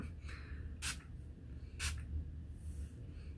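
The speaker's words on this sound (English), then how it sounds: "Give it a little shake and get it going. I mean, it's a fine mist" Two quick, airy spritzes of a perfume atomizer, about a second apart, over a quiet low hum with no voices.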